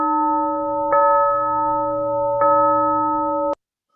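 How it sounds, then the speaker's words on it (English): A stage bell rings as an effect during a theatre performance of Macbeth, a sustained tonal ring struck again twice at steady intervals before cutting off abruptly. "The bell invites me."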